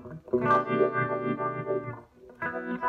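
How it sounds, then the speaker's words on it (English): A DIY frequency shifter effect produces weird phasey, metallic tones, a sustained distorted chord with shifting harmonics, a brief gap, then it resumes. "So I can get all kinds of really weird phasey, semi-phasey sounds, but they're not phasing."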